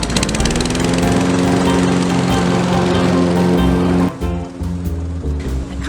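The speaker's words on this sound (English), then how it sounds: "Okay, time to mow." A lawn mower runs loud and close while mowing grass, its engine droning steadily before dipping briefly near the end and carrying on.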